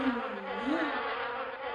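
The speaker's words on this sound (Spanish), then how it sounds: "de las abejas a la búsqueda de néctar y de polen" Bees foraging for nectar and pollen give a brief close, steady insect buzz with slight wavering pitch, heard alone for under two seconds.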